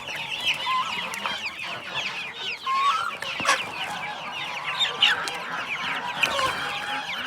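Hens cluck steadily while chicks peep in high, rapid chirps, a busy and fairly close flock with no talking.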